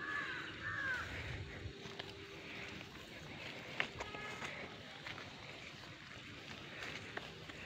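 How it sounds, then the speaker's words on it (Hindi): A crow caws near farm fields with a short call at the start, then faint outdoor ambience with scattered light knocks and rustles. "कौवा बहुत अच्छा बैकग्राउंड म्यूजिक दे रहा है।"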